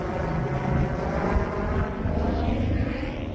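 Helicopter passing over on a sunny afternoon in central southern Arizona, a steady, fairly faint rotor and engine drone with a slight swell, heard alone without talk.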